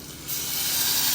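A pressure cooker that won't seal lets off a steady, close, loud hiss of escaping steam that swells after a brief start and holds to the end.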